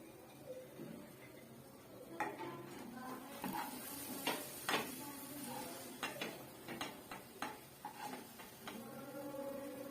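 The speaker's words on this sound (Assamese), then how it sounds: "প্লেট এখনত নমাই ৰাখিছোঁ।" Cooked dry-fried vegetables scooped from a pan onto a plate, heard as a series of close clinks, scrapes and taps of utensil on metal and dish at an uneven pace.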